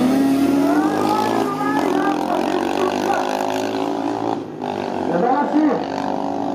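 A heavily modified Yamaha RZ350 two-stroke motorcycle at an American drag race, screaming loudly up through its gears with rising, rasping pitch sweeps and a brief dip between shifts, while a commentator talks over it.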